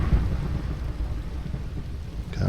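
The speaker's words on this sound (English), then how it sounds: "Can we get rid of the rain?" Rain and rolling thunder in Minecraft, a steady dense downpour hiss with deep low rumbling throughout, loud and continuous with no voices.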